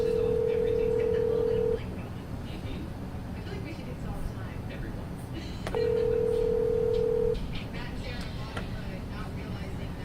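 A phone line gives two long, steady ringback tones several seconds apart while a call is being placed, heard over a constant low room hum with faint background noise.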